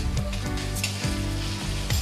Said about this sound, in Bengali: আদা পেঁয়াজটা আমার ভালো করে ভেজে নেওয়া হয়ে গেছে।